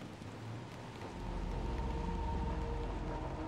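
Rain falls steadily as a dense wash in the video game Little Nightmares II, growing fuller and heavier after the first second. A deep low rumble sits beneath it and no one speaks.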